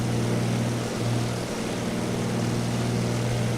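A DHC-2 Beaver propeller plane climbing after takeoff in Microsoft Flight Simulator, its engine giving a steady, loud, droning hum with a strong low tone that holds evenly throughout.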